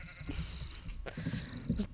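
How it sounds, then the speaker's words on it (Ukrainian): Sheep in the Minecraft video game bleating in short, moderately faint calls repeated a few times over a quiet game background. "Оці в мене животі бекають"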